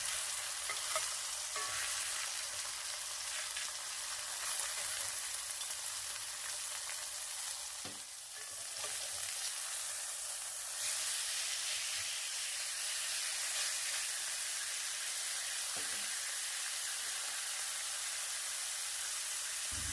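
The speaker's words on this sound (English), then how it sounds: "I want to get a good sear on the first side before turning" A thick steak sears in a hot pan for a well-done, butter-basted cook, giving a steady close-up sizzle and hiss of fat spitting, with occasional brief dips and small pops and no talking.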